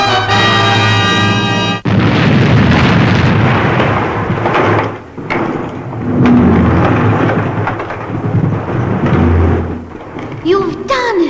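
An explosion sound effect from a 1960s science-fiction series: a loud, rolling, rumbling blast that swells after a short tonal opening, dips briefly, then roars again, with faint voices near the end.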